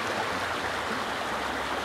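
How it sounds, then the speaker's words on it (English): River water rushing over rapids, a steady broadband roar and splash, close and continuous with no voices. "See where the rapids start right here to come down"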